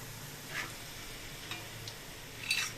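Chopped onions fry in a pan for Nellore biryani with a soft, steady sizzle, quiet and close, broken by a few light scrapes and clinks of stirring.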